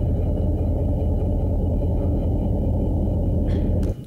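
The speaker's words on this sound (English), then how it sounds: "That's 20 minutes of a passing ship." Underwater recording of a passing ship, a dense low rumble of engine and propeller noise that holds steady and loud throughout, with faint higher clicks near the end.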